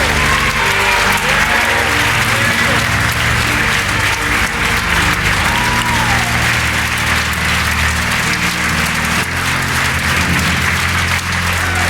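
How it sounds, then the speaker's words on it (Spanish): A church congregation breaks into loud, sustained applause that fills the room without letup, with a low music bed underneath and a few voices mixed in. "Dale un fuerte aplauso al Señor."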